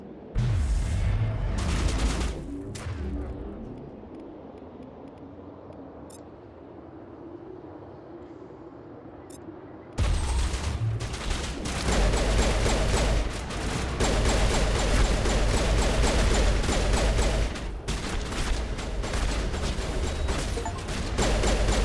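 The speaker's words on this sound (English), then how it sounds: "They're gonna start shooting at me, aren't they?" Enemies fire guns in a video game, producing dense, loud bursts of gunfire and booms that drop briefly to a quieter rumble before the heavy shooting resumes and continues without pause.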